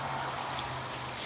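Water from a 1,000-gallon-a-minute fountain pump pours forcefully into a sluice box at a gold claim, a continuous close pouring rush with a faint low hum beneath and one small splashy blip.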